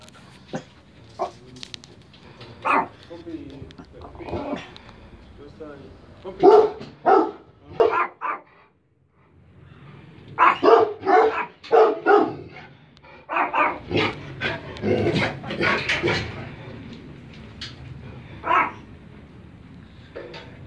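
Several dogs kept at a house bark in loud, irregular bursts, close by, with yips and whimpers mixed in and a short quiet gap partway through.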